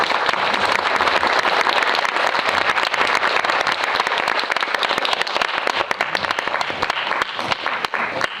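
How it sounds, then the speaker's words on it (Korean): Sustained, loud applause from a cinema audience at a post-screening talk for the film Nailed (Car Center), welcoming the director and an actor onto the stage; dense continuous clapping with no talk over it. "큰 박수로 맞이해 주시죠."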